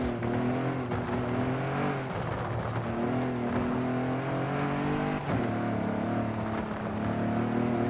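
Race car engine in Forza Horizon 5 holding a steady, loud rev with slight pitch wobbles from throttle modulation, then a brief dip around the middle before climbing back.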